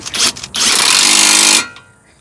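A pneumatic impact wrench with a socket runs a short burst on a vehicle bolt, a loud sustained rattling hammer of about a second after a couple of brief bumps, then stops.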